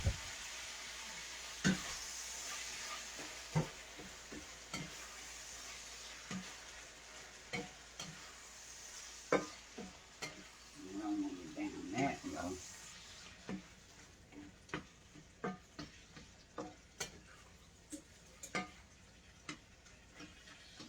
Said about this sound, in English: Now let's stir this meat because it's really cooking.